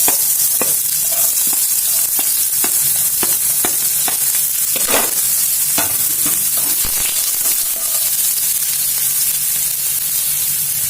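Onions hit hot oil in a pan and sizzle loudly and steadily, with frequent clinks and scrapes of a stirring spoon against the pan throughout.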